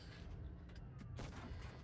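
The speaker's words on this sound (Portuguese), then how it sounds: "Mais um tirozinho no IS-8" In World of Tanks Blitz, the IS-8 heavy tank's cannon fires a shot, heard as a quiet, brief blast over steady low game rumble.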